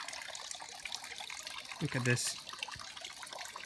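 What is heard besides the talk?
water running from a water source in an abandoned village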